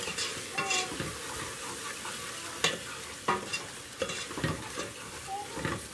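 A spice masala with turmeric roasts in a pan for Punjabi rajma curry, giving a continuous sizzle with repeated scraping strokes of a spoon and occasional metallic knocks, close and fairly loud.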